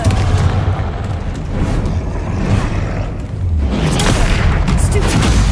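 Confringo fire spell in Hogwarts Legacy combat, several loud booming blasts with rumbling low-end bursts spread across a few seconds, the strongest near the end amid battle noise.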